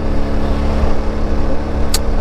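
A Yezdi Adventure motorcycle engine runs at a steady idle, close and loud, with an even low throb, a brief high hiss near the end and no speech.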